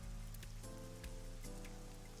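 Steady rain falling in the video game A1 The Somnium Files, a dense even hiss of drops on surfaces with a low background music bed and no voices.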